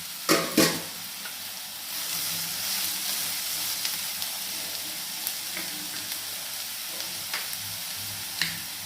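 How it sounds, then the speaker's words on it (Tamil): Steady sizzling of bitter gourd and onions frying in a hot pan, with a few sharp clicks and scrapes from stirring near the start and end. "இப்போ இந்த பாவக்காயும் இதோடய போட்டு நல்லா வெங்காயம் மட்டும் சேர்ந்து சுருண்டு பதங்குற வரைக்கும் பதக்கலாம்"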